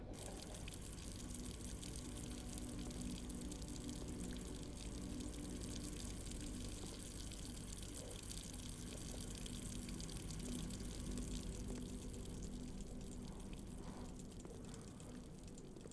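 Water runs steadily in the video game Blue Prince, a continuous gushing flow that stays even and alone for the whole stretch without any voices.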